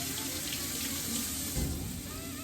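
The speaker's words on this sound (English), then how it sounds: "now that they're flipped to the other side, I'll wash my hands." A kitchen sink tap runs steadily while hands are washed under the stream, a continuous close splashing hiss with no talk, during home cooking of Salisbury steak.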